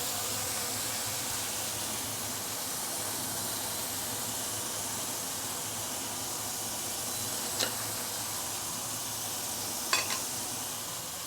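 Prawns for Assam prawns pan-fry in a wok or pan, producing a loud, continuous sizzling hiss that holds steady for the whole stretch, with two faint utensil taps late on and no voices.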